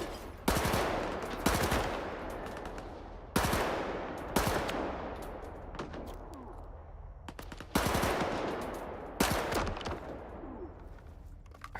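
Groza assault rifle gunfire in a shooter video game, sharp loud bursts fired in short volleys separated by pauses, each crack trailing off into an echoing decay, with no talk.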